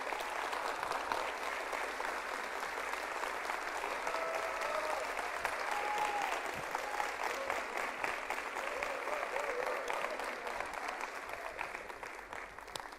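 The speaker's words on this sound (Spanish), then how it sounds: "se volteen a la iglesia para que les den un fuerte aplauso" A large church congregation claps steadily and warmly for over ten seconds, sustained applause filling the room with a few faint voices mixed in.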